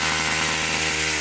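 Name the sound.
small chainsaw cutting down trees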